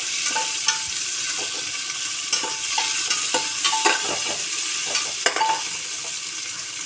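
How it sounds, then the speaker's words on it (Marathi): Onions sautéing in a pan for pulav, with a steady loud sizzle and repeated scraping strokes of a spoon stirring them, close up and with no talking. "नंतर आता कांदा टाकायचा, कांदा परतून घ्यायचा।"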